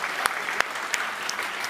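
Crowd of fans clapping and cheering at a live chess event in Paris, a steady wash of applause with a few sharp claps standing out, moderately distant.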